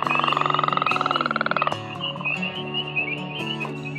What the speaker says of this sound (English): That was also a leopard frog with its throaty ass.